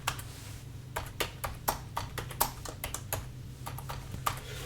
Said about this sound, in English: I'm going to type in 21 EMA on daily